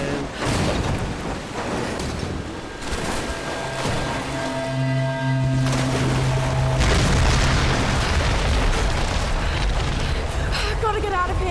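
A submarine mine set on fire explodes in Tomb Raider, a deep rolling boom that swells into a sustained rumble over game music, with a voice talking over it.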